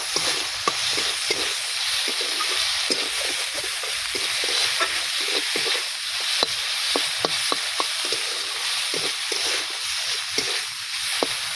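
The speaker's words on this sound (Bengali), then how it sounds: "এবারে মাছগুলো আমি একটু ভালো করে নেড়ে চেড়ে নিয়ে" Fish fry and sizzle in a pan with salt, turmeric and chili powder, a steady close hiss broken by frequent sharp scrapes and clicks of a spatula stirring, with no voices.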